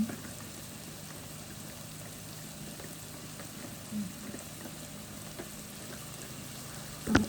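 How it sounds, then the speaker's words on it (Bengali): Loitta fish cooks in a pan, giving off a faint, steady sizzle and soft popping with a couple of small clinks, without talk. "এই যে আমি এটা লুটটা মাছ রান্না করতেছি আজকে"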